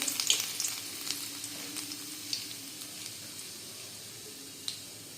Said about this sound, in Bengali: আমি এখন কড়াইতে একটু সাদা তেল গরম করে দিয়েছি, এবার এতে দেব রসুন কুচি করে রাখা